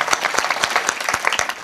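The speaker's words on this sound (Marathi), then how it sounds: "एकदा सर्वांनी जोरदार टाळ्या वाजवा" An audience at a Marathi kirtan claps loudly for the arriving maharaj, a dense burst of many hands with sharp individual claps standing out, briefly filling the space.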